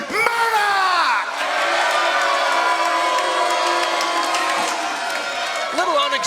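A large professional wrestling crowd at an NWA event reacts to champion Trevor Murdoch with sustained cheering and whoops. A loud announcer's voice carries over the crowd's steady roar.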